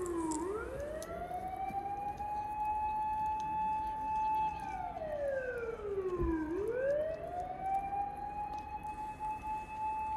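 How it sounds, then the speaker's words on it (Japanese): Fire engine and police car sirens wailing, rising and falling in long sweeps, heard at moderate distance at a campground in Kasagi, Kyoto, over low traffic rumble, with a second siren tone overlapping. "ほどなくすると消防車やパトカーがやってきました。"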